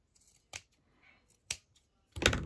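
Scissors trimming paper while making a no-sew journal from a book: a few crisp, separate snips close by, the last one longer and heavier, with quiet pauses between.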